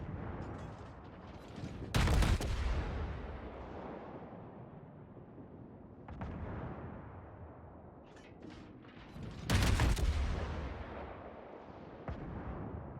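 Naval gunfire in World of Warships as a Fiji cruiser fires armor-piercing shells at a North Carolina battleship: two loud, booming salvos roughly seven seconds apart, with smaller distant thuds and a rumbling battle background between them.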